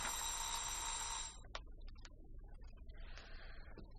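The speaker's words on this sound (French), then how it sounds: "Je sonne." A doorbell rings at a house, one long bright electric ring lasting over a second, followed by quieter knocks and faint room sounds.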